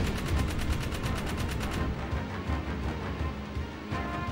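Rapid, sustained gunfire in the video game Jak 3, a dense rattling burst that stays loud and steady throughout with no talking.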